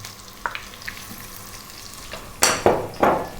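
Onions dropped into hot oil infused with spices for lentil dal, bursting into loud sizzling hisses in a few surges after a quiet stretch of faint kitchen clatter.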